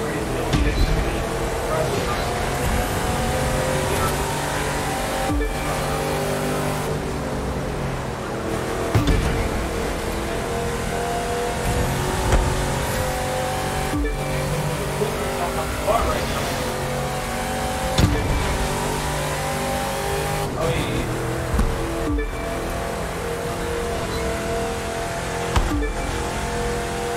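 Nissan 370Z Z34 in The Crew 2 Rally Raid, engine droning and revving steadily through a long run with brief shifts in pitch, loud and continuous.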